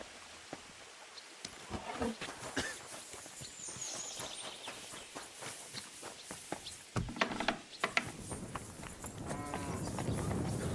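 A horse walks with regular hoof clip-clops in Kingdom Come: Deliverance II, its steady footfalls sounding close and moderately loud over a murmur of background ambience, with no talk heard.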